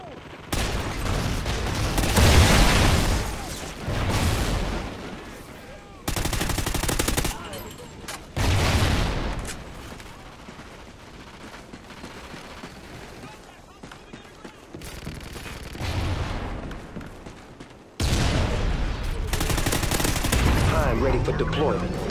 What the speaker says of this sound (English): Sentry gun ready to roll.